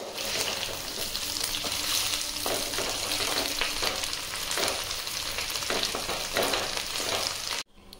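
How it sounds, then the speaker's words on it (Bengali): Chicken pieces frying in hot oil for chilli chicken give a steady, dense sizzle with occasional stirring, loud and continuous throughout before cutting off abruptly at the end; no one speaks. "চিকেনগুলো ফ্রাই হয়ে গেছে"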